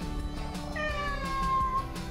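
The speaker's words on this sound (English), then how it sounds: "The kitty cat sounds like she feels so much better." A cat gives a single drawn-out, tonal meow close by, rising and then held for more than a second over a soft background hum.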